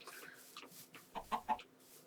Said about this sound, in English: past those chickens